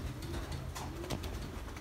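A pigeon coos softly and low, a faint rolling call set against steady background noise, with nobody speaking.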